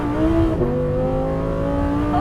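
Audi R8 Performance supercar accelerating hard, its engine note climbing in a strong rising harmonic whine, loud and close from inside the car, with a brief shift dip midway.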